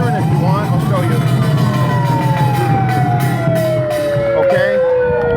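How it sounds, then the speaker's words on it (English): A fire-truck style vehicle siren wails loudly nearby, its rising and falling tone sweeping over a rumbling engine, with people talking and shouting during a street protest. "You can turn on the siren if you want."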